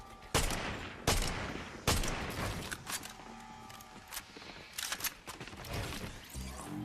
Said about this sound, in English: Like the attempt from Victor, but sometimes you really got to make those shots count off the Hunter's DMR